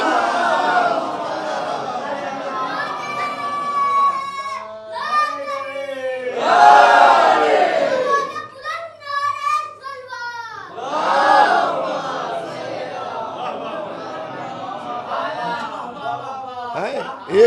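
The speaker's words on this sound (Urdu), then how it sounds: "ایک ایک نعرے دیے جا رہے ہیں" A large crowd at a Muharram majlis gathering in a madrasa chants religious slogans in loud unison, with rising and falling waves of massed voices and brief gaps between calls.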